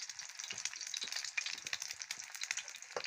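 Eggs fry half-done in a home pan with a steady crackling sizzle, close and fairly quiet, with small pops throughout and no talk.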